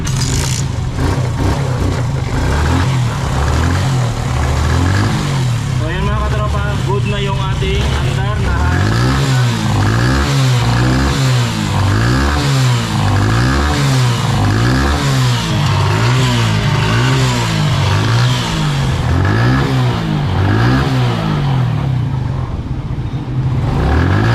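A Suzuki Smash 115 motorcycle engine runs loud and close after a CDI pulser polarity fix, revving in repeated rhythmic surges over a steady idle throughout, with voices talking faintly underneath.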